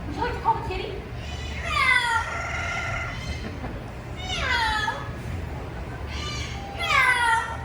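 Children imitating a cat's meow to call it, several rising mewing calls repeated at intervals over a steady low background rumble, with voices murmuring between the calls.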